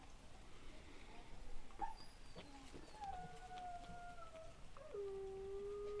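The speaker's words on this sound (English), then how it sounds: "I hear a sad dog that's tied up." A dog tied up somewhere in the distance lets out a series of long, thin whimpering howls that rise and then hold steady, faint against a quiet outdoor background.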